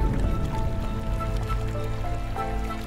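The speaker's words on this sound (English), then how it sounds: "The sound of the river, the amount of water which is moving," Steady churning water noise with a low rumble, continuous and fairly close, from a fast river flowing past in Bhutan.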